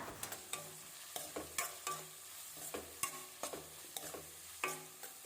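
Onions fry in a pan while a spoon stirs them, giving a soft sizzle broken by regular sharp clinks and scrapes roughly every half second, close but fairly quiet, with no voices.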